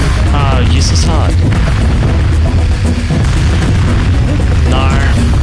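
Deep booming explosions rumble over a busy Donkey Kong Country Returns game soundscape, with chirpy synthetic effects and a voice speaking at moments.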